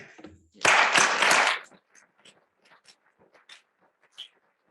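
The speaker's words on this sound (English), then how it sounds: "please give a warm round of applause to Staff Sergeant Marshall" A short burst of audience applause for a speaker at a Veterans Week event, dense clapping for about a second before fading into a few scattered claps and taps.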